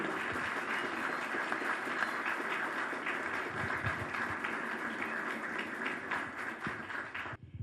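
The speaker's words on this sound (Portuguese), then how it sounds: "Uma salva de palmas para esse beijo." Wedding guests at a ceremony applaud the couple's kiss with sustained, fairly faint clapping from a room full of people, which fades and stops near the end.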